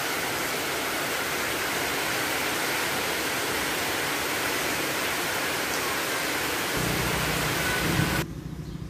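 Rain falls in a steady, dense hiss that continues without a break, with a slight change in tone near the end.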